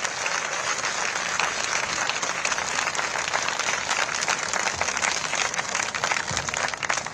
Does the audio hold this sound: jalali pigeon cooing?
no